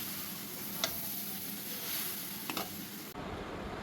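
A sticky naru mixture of sesame, rice and coconut is stirred in a pan over a soft constant sizzle, with a few faint scraping clicks of the spoon standing out now and then.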